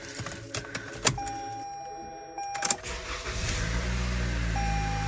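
A car engine cranks and starts in freezing -30 degree cold after struggling earlier, with a few clunks and clicks and a brief chime before a steady idle rumble builds and settles, close by with no talking.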